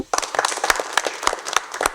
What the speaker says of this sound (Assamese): সকলোৰে কাৰণে হাত চাপৰি এটা হ'ব লাগে